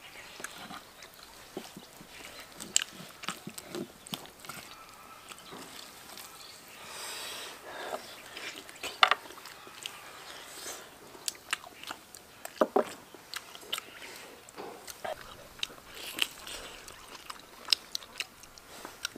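Someone bites into and chews a soft, fall-off-the-bone braised pork knuckle, making quiet, close, irregular wet bites and smacks over a faint room background.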